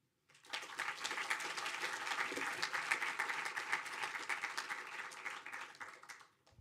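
Sustained audience applause at a postdoctoral scholars and mentors awards ceremony, rising quickly, holding as a dense even patter of many hands for several seconds, then tapering off; moderately distant and heard alone.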